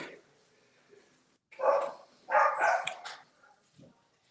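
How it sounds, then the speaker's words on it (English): Dogs bark in a loud, ragged burst of several barks with a few yips and whimpers, fairly close, with quieter moments between. "Goddamn dogs."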